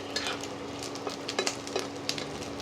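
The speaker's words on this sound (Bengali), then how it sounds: "এখন নারকেলটা ভাজা ভাজা হয়ে গেছে" Grated coconut frying in a pan for jackfruit-seed dal, a steady sizzle broken by scraping clicks of a spoon stirring, close and alone.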